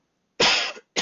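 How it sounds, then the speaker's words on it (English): Two sharp coughs from a person during a math lesson, a longer rough burst followed by the start of a second, close and loud against an otherwise silent background. "if you hear like this random muted kind of thing, that's me coughing"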